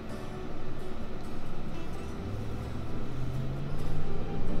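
A steady, deep engine rumble idles and swells slightly, with a low droning tone rising toward the end; no voices.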